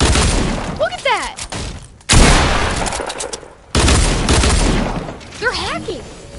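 Bursts of gunfire in Fortnite Creative, loud broadband blasts that cut in and out in several heavy volleys, with brief rising game effects between shots.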